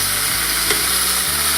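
Beef shank sizzles loudly in a hot pan, a steady, dense frying hiss with faint low clatter underneath and no talking.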